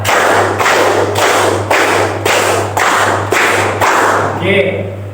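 A school class claps hands together in a rhythm pattern, giving several loud, evenly spaced bursts of unison claps that stop near the end.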